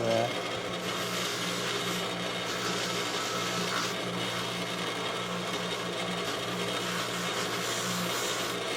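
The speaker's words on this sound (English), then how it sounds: "This has a little more abrasive to it, so gets in there and polishes" A buffing wheel spins against work loaded with abrasive polishing compound, giving a steady, close whirring hum with a faint rubbing texture that runs unbroken throughout.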